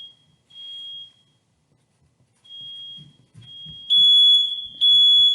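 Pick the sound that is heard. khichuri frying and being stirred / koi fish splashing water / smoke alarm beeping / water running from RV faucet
smoke alarm beeping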